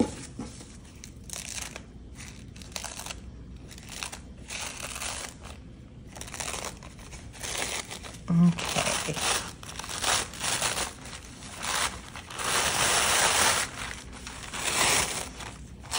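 Paper napkin plies being peeled apart, a close, continuous soft crinkling and tearing rustle with uneven swells of louder crackle throughout.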